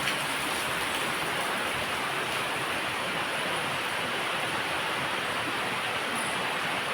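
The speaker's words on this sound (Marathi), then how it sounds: "पाऊस बघ किती आहे पाऊस पण आहे" Steady, dense rain falls outside a home, heard from a balcony as an even hiss. It continues unbroken at a constant moderate level with no talk over it.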